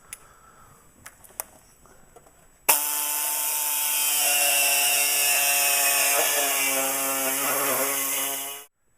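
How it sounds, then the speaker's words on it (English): A reciprocating air saw cuts through a Toyota truck's core support, a loud steady buzzing drone that starts abruptly after a few faint clicks and runs for about six seconds before cutting off. "the tool of choice when you decide to cut this is a reciprocating air saw"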